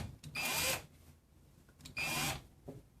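A power drill drives a self-tapping screw while a TV is being mounted, giving two loud, close, high-pitched whirring bursts about a second and a half apart, each roughly half a second long, with faint handling noise between.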